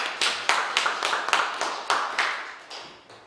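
Sparse, uneven clapping from a small audience at a church denominational leaders' gathering and signing ceremony in Seoul, about a dozen distinct claps spaced irregularly and fading toward the end.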